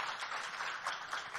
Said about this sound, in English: clap for these guys